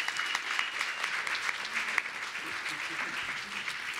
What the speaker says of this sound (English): applaud for Jacqueline, David, and Michael, so a round of applause.